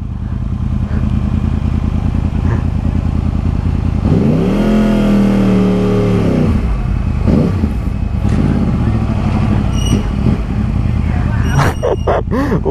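A Yamaha YZF R1 crossplane motorcycle engine revs loudly up close in a city street, rising and falling in a sustained mid-clip surge over constant traffic and road noise, with voices around.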